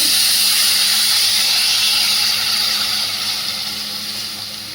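Water poured over vegetables frying in a little oil, a loud, close, broad steam hiss that starts strong and slowly fades, with no talk.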